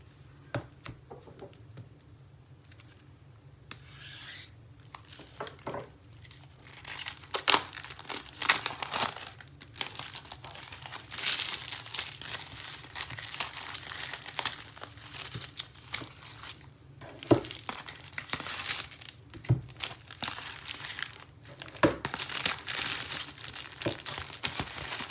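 Plastic wrap crinkles and tears as a brick of Warhammer Underworlds Harrowdeep game cards is unwrapped, a close, soft, continuous crackling with small ticks and pauses.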